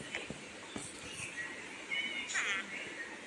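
A cat in the Minecraft video game gives a few short, high meows, fairly faint and scattered among other game noises.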